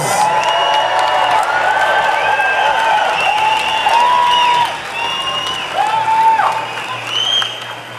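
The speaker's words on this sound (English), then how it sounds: "Big round of applause." An outdoor rally crowd applauds and cheers for a nurse of over 50 years, loud sustained clapping with whoops and shouts rising over it, easing slightly toward the end.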